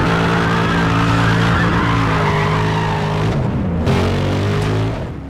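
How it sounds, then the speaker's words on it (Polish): A Ford Shelby GT500 Super Snake engine in the racing game NFS World, a loud, steady V8 roar with a strong harmonic drone that briefly shifts pitch mid-run, with tire skid noise underneath. "Przede wszystkim na uwagę zasługuje tutaj dźwięk silnika."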